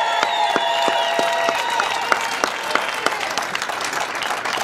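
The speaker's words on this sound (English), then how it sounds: "Please give them a round of applause." Applause from a rally audience at a public workers' rally, a dense wash of many hands clapping steadily, with a few sharp individual claps standing out near the front and faint crowd noise underneath.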